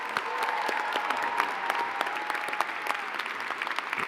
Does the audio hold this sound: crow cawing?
no